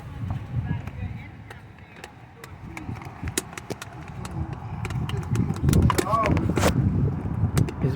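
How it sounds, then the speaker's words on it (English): Wind gusts outdoors at a driveway pickup repair job, buffeting the microphone with uneven low rumbling. Sharp clicks and clatter from tools and equipment come through it, and a voice speaks briefly near the end. "It's windy out here"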